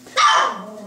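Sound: puppies barking

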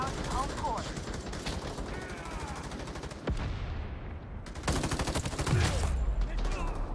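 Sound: gunfire in the video game Battle Teams 2

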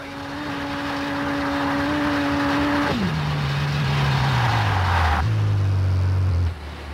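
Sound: rally car engine in video game Colin McRae Rally 4

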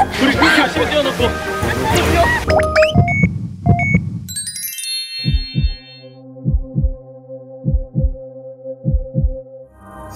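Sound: heartbeat sound effect

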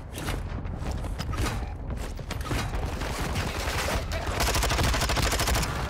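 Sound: gunfire in a video game

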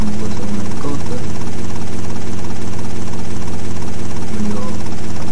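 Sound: helicopter in video game GTA Vice City Stories

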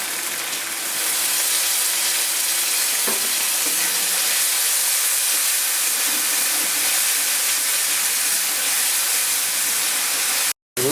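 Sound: spice paste with chili frying in a pan

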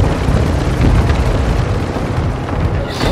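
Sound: cargo helicopter approaching in video game Call of Duty MW2

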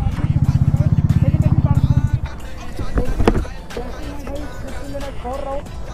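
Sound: Bajaj Pulsar NS400 and Dominar 400 motorcycles in drag race

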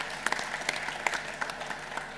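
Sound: audience applause at startup event

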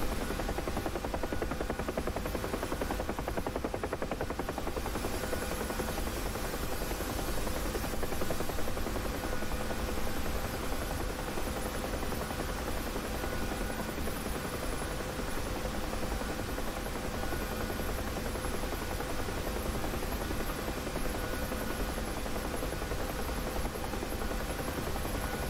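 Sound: Huey helicopter flying in the video game DCS

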